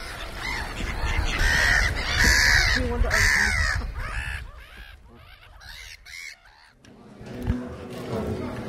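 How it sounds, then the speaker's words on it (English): Harsh honking and squawking calls from ducks and geese being fed, loud and close at first, then thinning out among rustling, with a voice speaking briefly. "we're feeding the ducks and the geese. There they go."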